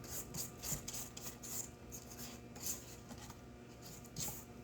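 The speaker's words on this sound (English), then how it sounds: "we're going to scrape the bowl down" A spatula scrapes pound cake batter made with salted butter and eggs down the sides of a stand mixer bowl, giving soft, repeated rubbing strokes at a low, close level.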